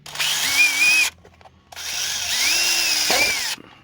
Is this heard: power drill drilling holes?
yes